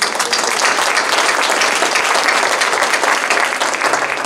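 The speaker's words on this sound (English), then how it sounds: "A round of applause for them" Steady, dense applause from an audience at an evening school-district PTA candidates' forum, a full even round of clapping filling the room without a break.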